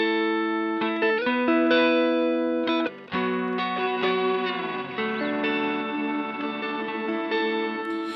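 Guitar notes run through the freeze scrub with spread algorithm of a Pladask Elektrisk Fabrikat pedal, chords held and smeared into sustained, layered drones with stuttering repeats and a brief dropout.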